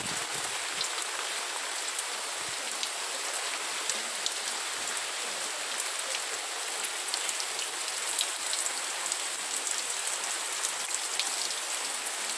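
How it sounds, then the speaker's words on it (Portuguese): Steady rain falling at the back of a house in the sertão countryside near Sobral, Ceará, a dense, even patter of drops on surfaces that continues unbroken throughout, with no voices. "Não existe barulho mais aconchegante, mais agradável para os nossos ouvidos do que esse barulho de chuva"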